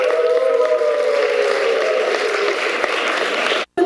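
Applause fills a church gathering welcoming new members as a speaker is introduced, a steady, dense wash of clapping from a sizable crowd that runs evenly for several seconds before cutting off abruptly near the end.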